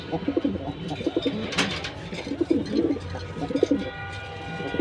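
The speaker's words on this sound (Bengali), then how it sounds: "চলেন রানিংয়ে কিছু কবুতর দেখাই ধরে ধরে দেখাম" Pigeons coo repeatedly at close range in a pigeon loft, with soft rolling calls coming in several overlapping bursts and faint background noise between them.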